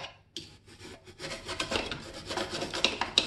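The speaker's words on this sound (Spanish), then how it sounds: "vamos a aprovechar para limpiar el perforador de las cápsulas, utilizando un cepillo de dientes" A toothbrush scrubs the capsule piercer of a Nespresso coffee machine, giving close, steady rasping bristle strokes that build in intensity after a brief quiet start, with a few sharper scratches near the end.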